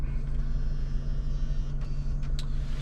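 A Pioneer flip-out stereo screen motorizing open in a 2003 Mercedes SLK, a steady mechanical whir over a constant low engine hum, close up with brief clicks near the end.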